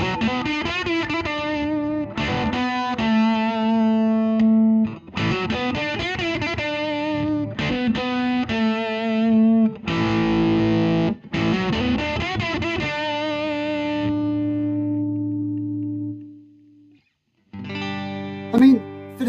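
Electric guitar played through a silicon fuzz pedal into a 1964 Fender Showman amp, loud and distorted with stabby chords and sustained notes, a brief silence near the end, then a final burst.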